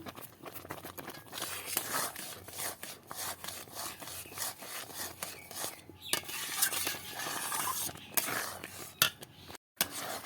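Green mango shukto being stirred continuously in a pan, a busy run of scraping and rubbing utensil strokes against the metal with light clinks and brief pauses, close and moderately quiet, with no talk.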